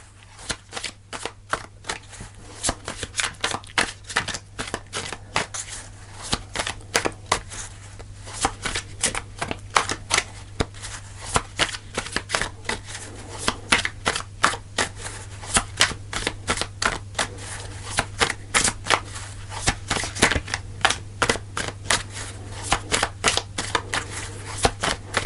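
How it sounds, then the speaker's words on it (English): Tarot cards are shuffled over and over, a dense run of crisp riffling snaps and flutters close up, with a faint steady hum underneath. "Give it one more shuffle."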